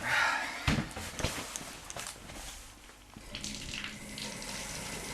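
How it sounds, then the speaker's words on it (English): A shower runs in the horror video game Hellraiser: Revelations, a steady rushing hiss of falling water with a few knocks near the start, continuing throughout without talking. "I think I'll go take a quick shower."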